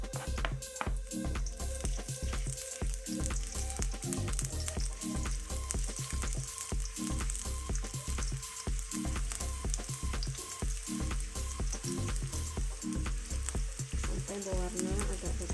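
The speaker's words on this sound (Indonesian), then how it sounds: "Setelah itu kita siapkan wajan untuk menggoreng. Kita tumis bawang." Onions sizzle steadily in a hot frying pan with a constant crackle, punctuated by regular scraping and stirring taps throughout.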